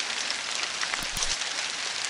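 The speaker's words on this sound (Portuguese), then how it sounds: "como pode ver, tá chovendo." Heavy rain falls outdoors during metal detecting in Vale Indiana, a steady close hiss of drops with a couple of brief low thumps, nobody speaking.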